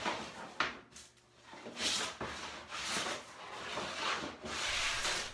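A thick-ironed hand plane smooths a reclaimed cypress board in a woodworking shop. It makes a series of quiet, rhythmic rasping strokes about once a second, soft and close, with no talk.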